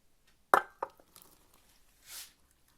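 A solid glass clunk as a jar of water is set down on a plate covering pressed eggplants, a second softer knock, then faint rustling.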